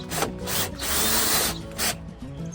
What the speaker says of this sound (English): So I had to get a square drill bit to put them in.